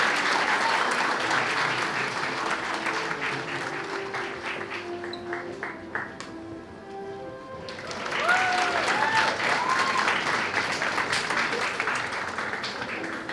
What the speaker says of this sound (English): Let's give a round of applause for Dr. Lindsay Howe.